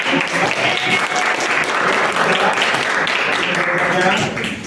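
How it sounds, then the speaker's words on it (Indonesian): Audience applause fills a classroom or lecture hall at a teacher training session, a dense, steady wash of clapping from many hands that stays loud and even for the whole stretch. "Oke, tepuk tangan yang meriah."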